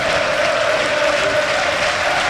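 Steady roar of a football stadium crowd at Burnley v Blackburn, an EFL Championship match, loud and continuous with a sustained chanting tone running through it.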